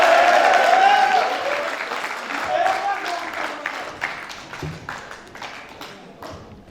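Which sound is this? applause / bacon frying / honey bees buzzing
applause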